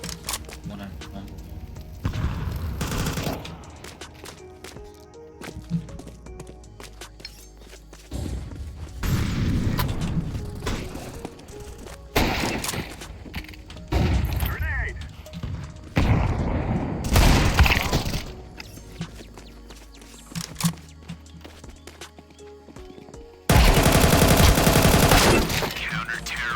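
Counter-Strike style video game gunfire in loud, broadband bursts of rapid shots separated by quieter stretches, with a voice talking between volleys.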